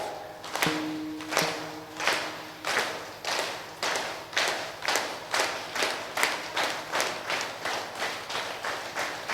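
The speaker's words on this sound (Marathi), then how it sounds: "एकदा अर्धा मिनिटं मला सगळ्यांनी टाळी वाजवून दाखवा." A gathering at a memorial kirtan claps together on request. About twenty sharp unison claps come in a steady, slightly quickening rhythm, loud and close, with a few brief tonal sounds near the start.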